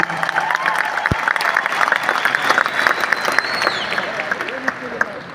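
Applause for a company MD and CEO at a large event fills the room, a dense, steady clatter of many hands clapping, with a few cheers rising and voices mixed in underneath.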